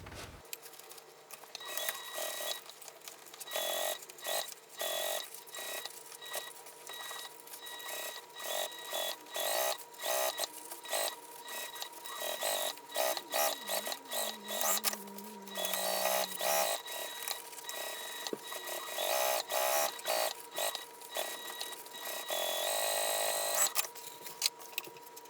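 A sewing machine stitching around a vinyl and foam bag gusset at a half-inch seam, a close, rapid mechanical chatter that runs in steady bursts with brief pauses.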